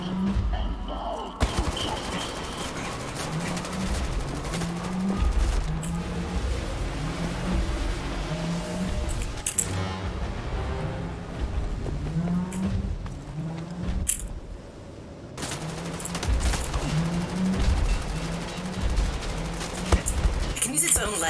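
Gunfire and heavy machine fire in Wolfenstein: The New Order, a dense, near-constant rattle of shots and mechanical clatter with rising and falling engine-like whines, loud throughout with brief lulls, and a player talking over it.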